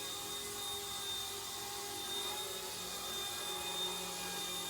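An Eachine E120 BO-105 RC helicopter flying low indoors over carpet, its small rotor giving a steady, even whine and buzz throughout, faint and continuous with no talking.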